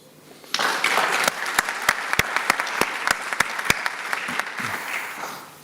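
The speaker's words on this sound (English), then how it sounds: "this is worth another round of applause" Applause from the audience at a university graduation ceremony for a graduate earning cum laude, a dense wash of clapping that starts abruptly and carries on steadily with a few sharp, louder individual claps standing out.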